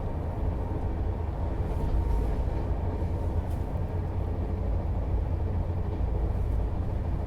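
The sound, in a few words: train passing by during a crossing on a railway journey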